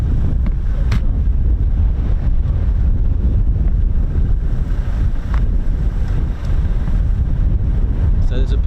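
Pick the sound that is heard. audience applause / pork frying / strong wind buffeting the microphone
strong wind buffeting the microphone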